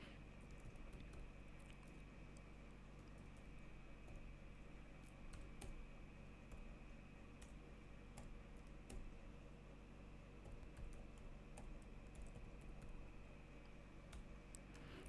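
Typing on a computer keyboard while writing code in Android Studio, a faint scattered series of light key clicks at an irregular rhythm over a steady low hum.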